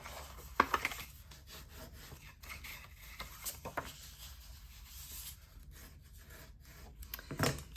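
A tool burnishes score lines on a paper treat pouch, giving soft, faint rubbing and scraping strokes with a few small taps, close and quiet.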